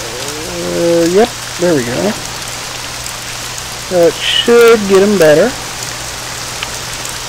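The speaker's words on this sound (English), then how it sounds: "Oh, it's stopping raining." Rain pattering steadily in the farming video game John Deere: American Farmer, a continuous soft hiss that carries through the whole clip while someone talks over it in short bursts.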